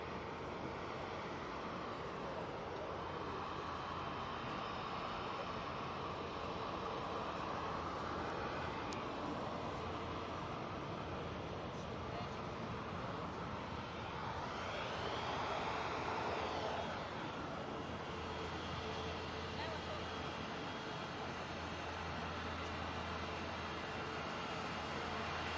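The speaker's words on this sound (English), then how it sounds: "the Virgin Atlantic already, because that is literally coming onto the runway now. A350 1000 going off to JFK" A Virgin Atlantic Airbus A350-1000 departing Manchester Airport for JFK, a continuous broad engine roar heard from a distance, steady and even over wind noise for the whole stretch, with no talk.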